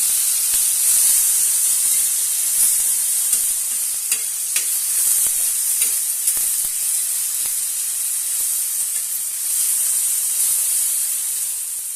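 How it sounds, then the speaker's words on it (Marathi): A cut tomato roasts in a hot pan for a spicy tomato thecha, giving a steady, loud sizzle and hiss throughout with scattered small crackles and no voices. "एक टोमॅटो मी कट करून घेतलेला आहे तो घालूया तो पण छानपैकी भाजून घेऊया"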